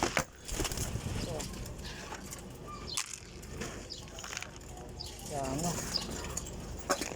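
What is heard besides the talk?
pigeons cooing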